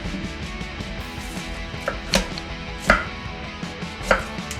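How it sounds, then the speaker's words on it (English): A knife chops broccoli into small pieces for a pasta cream sauce, with a few sharp, distinct thuds against the board over a low background of quieter cutting sounds. "I guess we're gonna cut it up into pretty small pieces"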